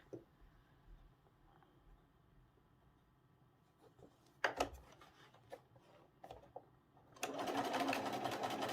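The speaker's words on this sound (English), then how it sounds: "And then keep sewing those side seams" A sewing machine stitches the side seams of quilt blocks, starting with quiet handling and scattered clicks, then a burst of stitching, and ending with a loud, steady run of rapid stitches close by.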